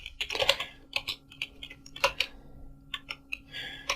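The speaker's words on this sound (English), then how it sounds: "I will just type a small code right here." Steady, quick computer keyboard typing as code is entered, with clustered keystrokes and short pauses, close and moderately loud, no voices.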